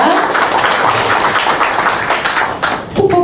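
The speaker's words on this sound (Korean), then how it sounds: "다시 한번 큰 박수로 황운하 원내대표님께 박수 부탁드리겠습니다" A large crowd at a Korean political party members' gathering in a Daejeon cultural hall applauds Hwang Un-ha: loud, dense, continuous clapping that holds steady before a voice cuts in at the very end.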